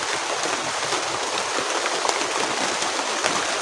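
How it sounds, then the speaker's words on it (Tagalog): Steady heavy rain falling in a cemetery, a dense, even hiss of drops close by with no pauses, loud and continuous throughout. "Lumakas na yung ulan oh."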